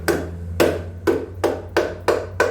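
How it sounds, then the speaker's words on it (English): A hammer taps a main body connector through a part in seven sharp, evenly spaced strikes against a steady low hum, close and clear with no talking. "When you reach a tough spot, you just hammer up on it, keep going"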